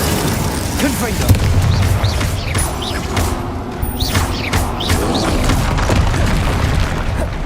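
Repeated spell blasts in the Hogwarts Legacy video game, booming Confringo blasting-curse explosions with crackling impacts over a dense, continuous layer of combat effects and rumble.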